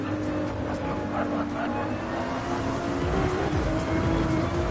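A Ferrari 296 race car engine droning steadily in a racing video game at Barcelona, a continuous loud tonal hum with slight pitch shifts, mixed under background noise and faint commentary.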